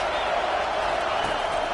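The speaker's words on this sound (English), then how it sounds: "These fans are going absolutely nuts." Loud, dense roar of a college football stadium crowd, fans cheering and yelling continuously at full volume with no break across the whole moment.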